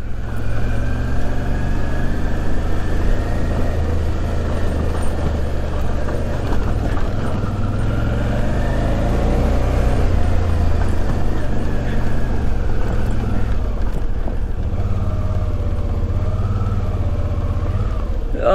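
A motorcycle engine idles steadily throughout, a continuous low rumble with a faint mechanical chatter, close by and fairly loud, with no talk over it.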